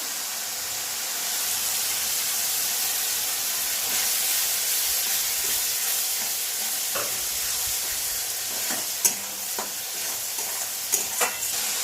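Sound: tomato paste sizzling in pan for duck egg curry

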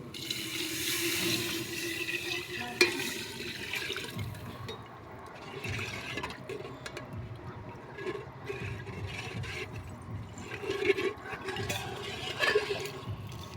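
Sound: water poured into pot for egg biryani

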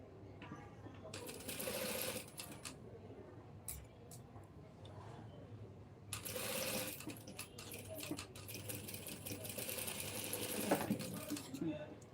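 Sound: sewing machine stitching a blouse

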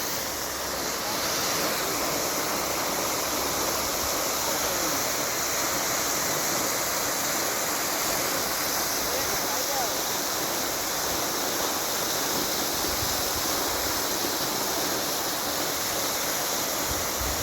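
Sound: fountain water spraying

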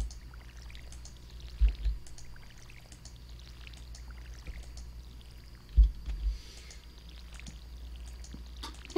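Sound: watering can watering crops in video game Stardew Valley

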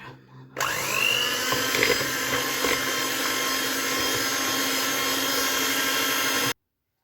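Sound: electric hand mixer whisking sugar for a strawberry jam cake

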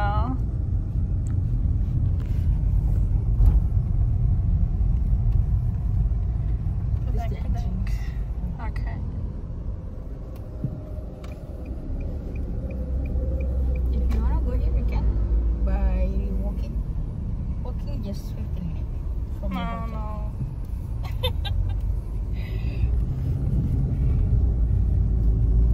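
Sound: car driving on the road in Bali

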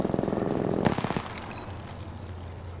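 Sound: gunfire in Apex Legends video game

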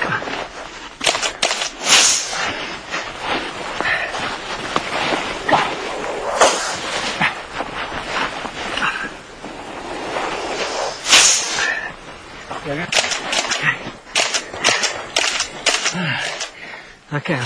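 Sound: camera shutter firing rapid shots at a cobra

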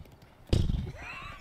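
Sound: person imitating a horse neighing

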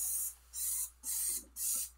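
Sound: Dawn Powerwash nozzle spraying cleaner

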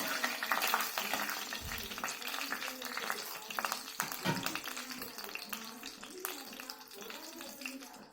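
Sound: garlic and chili frying while stirred

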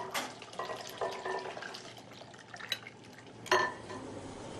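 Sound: stirring minced chicken paste into broth

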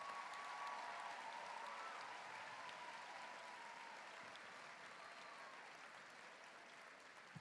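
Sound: audience applause

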